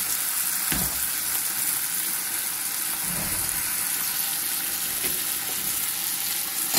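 Mustard paste sizzles in a pan with fish head masala as the spiced liquid cooks down, giving a steady close hiss with a few soft stirring scrapes and no talking.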